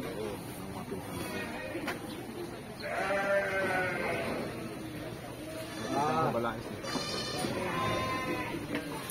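Goats at a Filipino farm gathering bleat in repeated wavering calls, two loud bursts standing out over steady crowd chatter and background noise.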